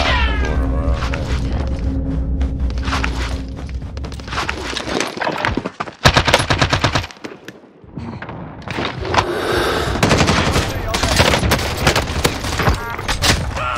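Gunfire in the Warzone video game comes as rapid bursts of shots amid busy in-game noise, loud and close, with a brief lull before the firing resumes.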